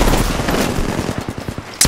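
Rapid automatic gunfire in the battle royale shooter Apex Legends, a sustained burst of close, loud shots with a rhythmic stutter near the end.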